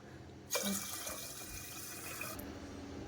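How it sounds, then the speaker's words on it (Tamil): Water poured into a pot of washed rice to cook a weight-loss kanji porridge, a steady splashing pour that starts abruptly and runs continuously at close range. "அதே டம்ளர் எடுத்து ஒரு 7 கப்பு தண்ணி இதில் விடணும்."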